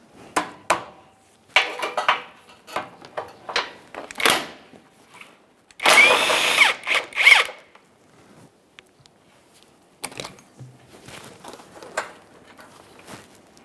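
A power tool spins out the last bumper bolt on a 2009-2014 Nissan Maxima 3.5L V6 during radiator work: one loud, close burst of whirring mid-clip, with scattered clanks and rattles of handling before and after.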